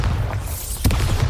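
A Bombarda blasting spell detonates in Hogwarts Legacy, a loud, dense boom with heavy low rumble and a sharp burst of crackle partway through, filling the whole moment.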